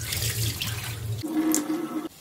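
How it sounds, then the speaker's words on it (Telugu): Water drained off rinsed poha (flattened rice) at a kitchen sink, a steady splashing pour that deepens and shifts in tone partway through, with no talking. "అంతే నీళ్ళన్నీ వంపేయాలి."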